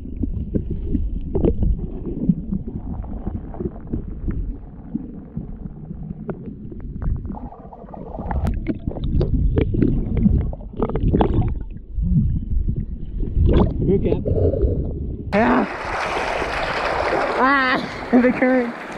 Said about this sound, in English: I'm just chilling in the waterfall.